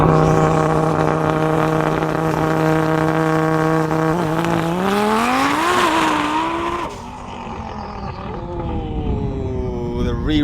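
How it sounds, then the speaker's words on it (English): Lamborghini and Rimac electric hypercar drag race, a loud engine roar climbing steadily in pitch with a rising whine, easing briefly then building again, sustained and close throughout. "I believe now is the last race between the Lamborghini and the Rimac"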